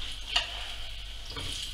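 Black pudding frying in a pan gives off a steady close sizzle with a brief clink near the start, heard alone without speech.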